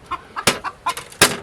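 Chickens at a treadle feeder cluck in short, close, irregular bursts, with sharp pecks or clanks from the feeder in between.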